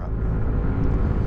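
A 2023 QJ Motor LTR150 motorcycle engine at full throttle holds a steady, loud roar throughout, a deep rumbling drone with no breaks, close and sustained.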